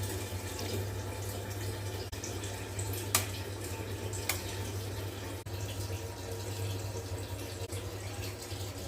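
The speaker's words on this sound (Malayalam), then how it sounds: "1 ഗ്ലാസ് വെള്ളം ചേർത്ത് കൊടുക്കുക." A glass of water poured into a pot of beef curry gravy, heard as a faint, steady watery pour over a low hum, with a couple of soft clinks and no talking.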